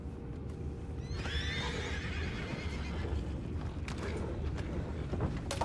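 A horse whinnies briefly in the video game Red Dead Redemption 2, amid a steady ambient background, with faint hoof clatter and creaking nearby.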